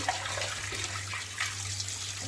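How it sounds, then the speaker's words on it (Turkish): Food being rinsed under a running kitchen tap, a steady continuous wash of flowing water at close range with no voices over it. "Şimdi, şimdi bir sudan daha geçireceğim ben bunu."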